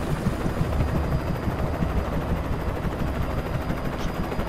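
A helicopter in the video game Alan Wake thrums with a steady, loud rotor chop that fills the whole stretch, with faint rattling bursts like gunfire mixed in.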